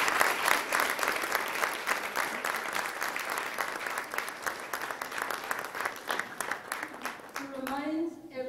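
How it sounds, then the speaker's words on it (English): Steady audience applause at an evening address by someone, many hands clapping in a dense, even patter at moderate distance, fading as a voice begins near the end. "we need to really clap for these wonderful people"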